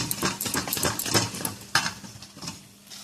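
Mustard and chili powder are stirred with a little water in a small bowl by a spoon, giving quick close-up clinks and scrapes in a brisk rhythm that slows and fades toward the end.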